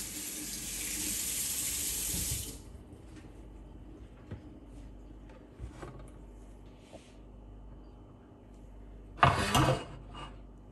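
A kitchen tap runs steadily for about two seconds while washing up, then stops, followed by faint clinks of dishes and a brief second splash of water near the end.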